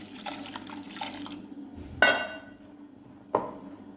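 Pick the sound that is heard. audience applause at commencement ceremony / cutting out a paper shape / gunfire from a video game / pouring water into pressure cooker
pouring water into pressure cooker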